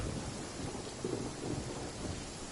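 Thunder and rain during a lightning storm in Genshin Impact, a low continuous rumble under steady rain hiss, fairly close and unbroken, with no talking.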